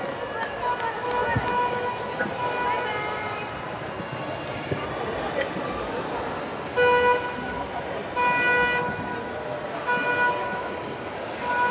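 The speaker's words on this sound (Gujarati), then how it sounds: "હવે જો આ ટ્રેન ચાલુ થઈ ગઈ છે." A passenger train starts to move with a steady rumble of wheels and carriages, and two horn toots sound around the middle of the clip over a busy background that may include voices.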